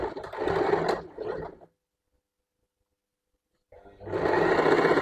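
A sewing machine stitches along an overlocked hem in two close, steady whirring bursts separated by a silent pause.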